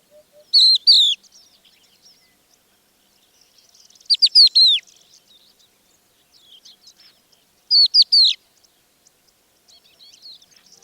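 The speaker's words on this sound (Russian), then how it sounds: "Под свисты жаворонков и скрип просянок на заднем фоне время от времени бубнили удоды." Loud high whistling calls of larks and creaking corn buntings come in three bursts, with hoopoes faintly calling and scattered chirps between them in otherwise quiet open air in the Manych region in April.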